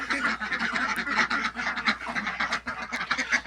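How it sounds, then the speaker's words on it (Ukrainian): A flock of Muscovy ducks quacking and chattering continuously, dense overlapping calls close by. "Мається на увазі іменно мускусні качки."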